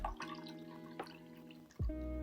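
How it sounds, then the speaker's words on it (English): Kimchi brine poured into a measuring cup: close, faint liquid trickle with a few drips, then a sudden low gulp as the stream lands near the end. "Take a measuring cup and pour kimchi brine in it."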